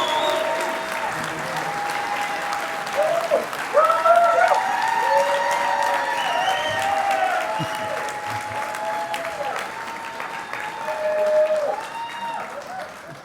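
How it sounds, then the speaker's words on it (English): An audience at a Hall of Fame induction ceremony claps and cheers steadily, with swells of applause; a loud tonal sound with steady held notes runs over the clapping, likely music or whistling, across the whole stretch. "when I said clap and cheer, you guys took me to heart"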